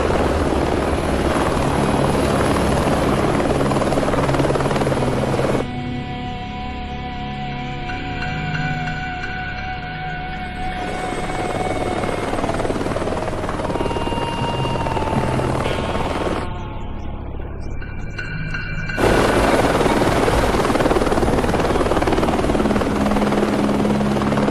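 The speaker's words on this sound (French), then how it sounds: "C'est en hélico qui s'amène" A helicopter drones loudly and steadily throughout, its rotor and engine noise filling the scene without a break, with tonal hums shifting slightly as it approaches.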